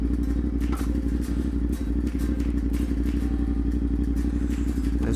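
A 2023 CFMOTO 450SR motorcycle being ridden, its engine a steady loud drone with a rapid pulsing rhythm, plus wind rush and occasional clatter and thumps over the full stretch.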